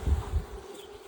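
A honeybee swarm buzzing in a hive, a close low droning hum that is loudest at the start and then settles into a fainter steady buzz.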